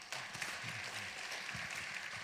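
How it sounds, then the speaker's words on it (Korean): Church congregation applauding at a women's parish joint worship service, a steady, moderately faint wash of clapping across the whole stretch with no one speaking. "박수로 격려를 부탁드립니다."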